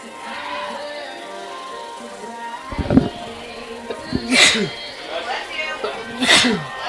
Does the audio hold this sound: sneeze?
yes